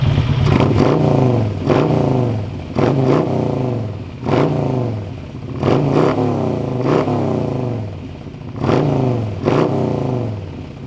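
A Harley-Davidson motorcycle engine with an aftermarket exhaust revs up hard several times in a row, each burst rising and falling back to a deep rumbling idle, loud and close.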